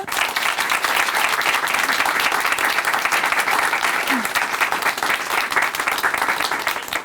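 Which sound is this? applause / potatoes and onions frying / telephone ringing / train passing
applause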